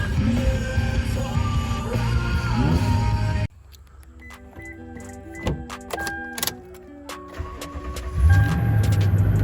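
An Infiniti car engine cranks and catches, then idles with clanking and knocking noises, ending in a rising rev.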